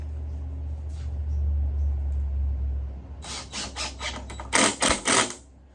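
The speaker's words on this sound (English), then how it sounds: "I'm going to drill them in, and I'm going to countersink all the way in" A cordless drill with a dying battery drives screws into wood, first a low sluggish motor hum, then several short bursts of grinding as the screws bite and countersink.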